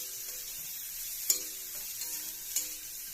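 Boiled potatoes dropped into a pan of soybean and egg curry, a soft steady sizzle of frying with a couple of sharp clinks of a spoon against the pan, close and quiet, no voices.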